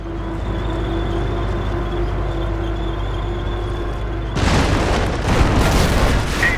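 In the Company of Heroes strategy game, a Sherman tank's engine drones steadily, then a loud booming shot and impact on a heavily armored Panzer breaks out, followed by a crackling, rumbling aftermath.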